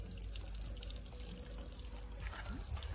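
Outboard boat motor from 2010 pumping cooling water, a continuous splashing trickle over a low engine rumble, close and steady, with a voice briefly underneath.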